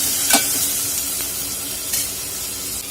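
Chopped tomato roasts in hot oil in a pan, giving a continuous bright sizzle up close, punctuated by a few sharp spatters and light utensil taps, and nobody speaks.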